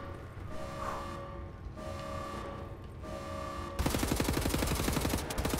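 Rapid automatic gunfire in the shooter Wolfenstein: The New Order bursts in loud and dense after a stretch of humming game ambience, with shots rattling in quick succession.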